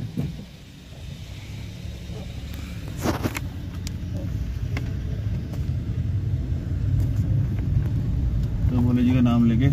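Car interior on a mountain road between Ukhimath and Ransi village, a low rumbling engine and road noise that builds steadily louder, with people talking inside over it.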